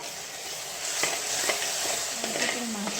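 Masala paste for paneer curry fries in a pan with a steady close sizzle, while a utensil stirs and scrapes through it now and then.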